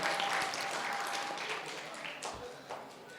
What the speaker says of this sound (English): Round of applause for that question.